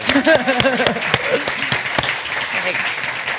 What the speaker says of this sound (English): Have a round of applause for Kathy as well.